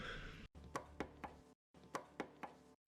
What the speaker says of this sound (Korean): 저음역에 그 깔려 있는 음악 소리가 많이 사라지고, 노크하는 소리만 남게 됩니다